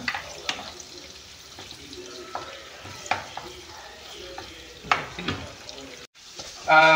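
Chili goes into a hot pan for chicken liver adobo, bringing a continuous close sizzle of frying broken by scraping stirs and a few sharper utensil knocks.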